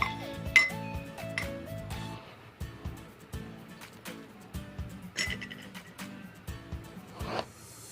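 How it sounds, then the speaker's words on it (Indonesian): A spoon clinks lightly against drinking glasses while sugar is spooned into them, in a quick series of close, bright taps and scrapes, with soft hiss in the background. "Kemudian masing-masing gelas diisi dengan gula 1 sendok."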